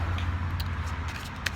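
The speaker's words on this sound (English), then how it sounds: "I know y'all can hear the cars go by" Cars drive by on a road outside, a steady low rumble with soft swells as vehicles pass at a distance.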